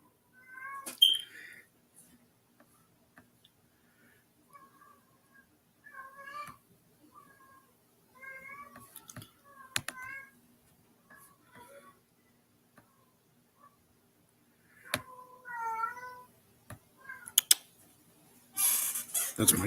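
A cat meows repeatedly in short, clear calls spaced across a quiet room, close to the microphone, with a few soft clicks and a brief burst of noise at the end.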